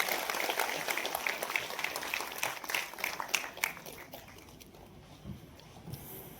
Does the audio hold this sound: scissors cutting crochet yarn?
no